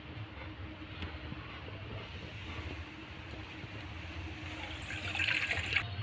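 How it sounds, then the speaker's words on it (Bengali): Hot water poured out of a kadai, a soft continuous wash of liquid that swells toward the end, heard close in a quiet kitchen. "জলটা আমার গরম হয়ে গেছে, আমি এবার ঢেলে নেব।"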